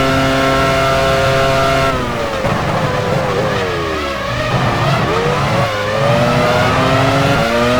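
A Formula 1 car in the F1 Challenge 99-02 game at Hockenheim, entering the pit lane: a loud, steady engine whine that breaks into rough, wavering downshifts and lower revs before rising again.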